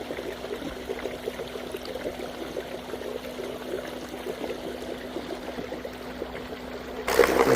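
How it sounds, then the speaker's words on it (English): Canoe gliding through shallow river water past debris, with a steady low rush and trickle of water alongside a constant hum, louder splashing near the end. "But with the canoe, we're coming right on through."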